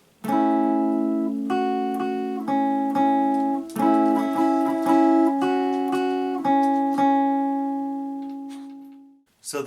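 A guitar plays a riff in clear plucked notes and chords with a steady rhythm, closing on a long ringing note that slowly decays, with no voice over it.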